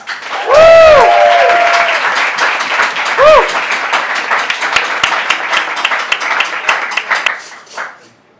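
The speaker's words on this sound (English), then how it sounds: "Please give it up, big round of applause for Bob Streamer." A comedy-show audience applauds a comedian coming on stage, with a loud whistle and cheer at the start, then steady clapping that tapers off near the end.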